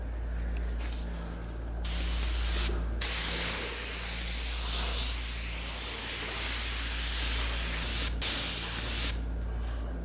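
Finish sprays steadily along the taped edge of a wooden hanging cupboard, a continuous close hiss broken by a few short pauses.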